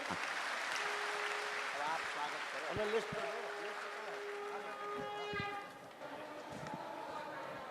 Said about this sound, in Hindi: जोरदार ताली बजा करके स्वागत करिए